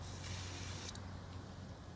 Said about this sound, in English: So what you do, you spray this hose. This is like a Teflon.